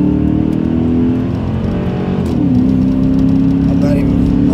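A Lamborghini Diablo's 5.7-liter engine revs up steadily and loudly, its deep tone rising and holding as the car accelerates, close by and uninterrupted.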